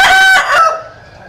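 Several roosters crow together in a rural village, a loud, close, drawn-out cock-a-doodle-doo that overlaps itself, then trails off into quiet.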